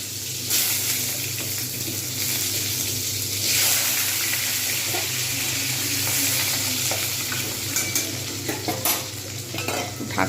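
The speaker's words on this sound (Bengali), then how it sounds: "এবার আমি এর মধ্যেই দিয়ে দেবো আলুগুলো আলুগুলো একটু ভালো করে ভেজে নেব" Potatoes frying in hot oil with panch phoron and dried chilli, a steady broad sizzle with occasional stirring scrapes and clinks throughout, close and fairly loud, no voices.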